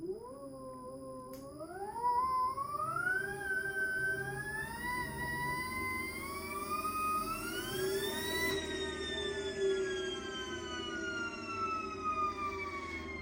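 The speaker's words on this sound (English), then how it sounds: "If I now select forward with gear, I can use the throttle to move the motor" A Nissan Leaf electric motor spins on a test bed with no load, giving a loud, close whine that climbs steadily in pitch as the throttle opens, then falls gently as it coasts. A low hum sits underneath, and there is no talking.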